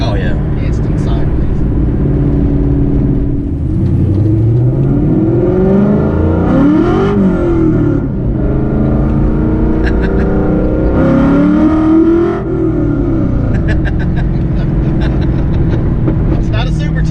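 A Ford Fox body car with a Coyote V8 engine swap revs and accelerates loudly, its engine note rising and falling in two strong pulls, with people talking over it from inside the car.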